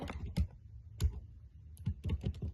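Key presses on a computer keyboard during a networking command-line session, a few sharp separate clicks and a short quick cluster near the end, close and fairly quiet with no talk.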